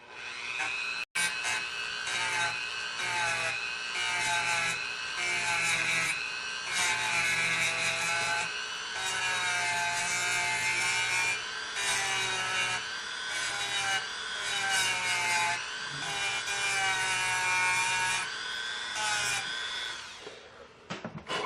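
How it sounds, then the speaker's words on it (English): A Dremel rotary tool fitted with a sanding drum grinds steel on the barrels of a W. W. Greener shotgun, giving a close, continuous high whine that shifts slightly in pitch as pressure changes, with no talking. "I'm going to be using a Dremel now just with a sitting drum on it."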